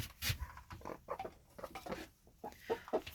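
Chickens clucking close by in a henhouse in short, uneven bursts, soft murmuring calls overlapping with brief pauses between them.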